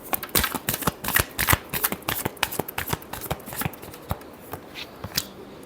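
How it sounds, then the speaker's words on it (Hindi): A deck of tarot cards is shuffled by hand in a quiet room, producing rapid irregular riffles and soft slaps of cards close to the microphone, with brief pauses between bursts. "Last shuffle."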